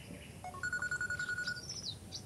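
A telephone rings with a quiet electronic chirping ringtone. The warbling tones repeat rapidly in a short burst, faint against a calm indoor background.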